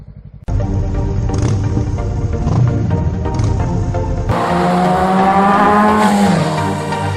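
A 300cc sport motorcycle cuts in loud and close, its engine droning and then climbing in pitch under acceleration, revving harder midway through before easing slightly at the end.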